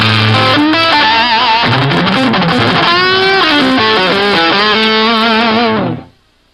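Electric guitar with heavy distortion played with fast muted picking, a loud continuous run of quick notes shifting pitch, unaccompanied, ending with an abrupt stop.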